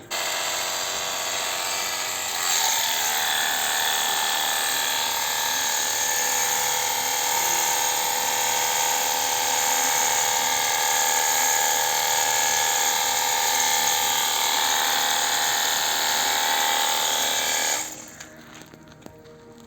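Ronix 8930 cordless pressure washer spraying foam onto a dusty mat, a loud steady high whine that holds for about eighteen seconds and then cuts off abruptly, with no talking.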